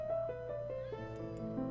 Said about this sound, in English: That's one of the cats in the back room.